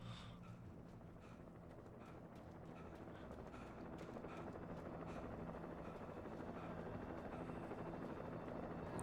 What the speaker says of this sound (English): Oh, they got the old helicopters out.